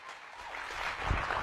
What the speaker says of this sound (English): huge round of applause for Don Wilson, founder of Gear Bubble